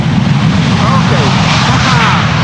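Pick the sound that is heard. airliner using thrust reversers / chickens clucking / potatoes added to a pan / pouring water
airliner using thrust reversers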